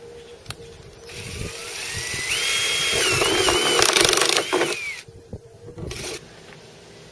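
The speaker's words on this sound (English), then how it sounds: "I'm using a step drill bit to punch the hole." A power drill with a step drill bit bores a hole for a portable power pack, its motor whining up to a steady high pitch that shifts as the bit cuts and then cuts off, with a few clunks around it.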